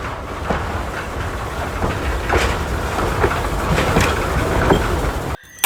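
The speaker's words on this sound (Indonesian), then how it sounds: "ini kereta api" A toy train rattling along its track with a steady clickety-clack and repeated wheel clicks, moderately loud and close, running continuously for several seconds before a brief dropout.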